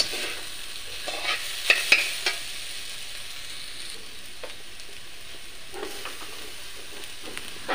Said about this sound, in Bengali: ভালো করে এখন নাড়াচাড়া করে নেব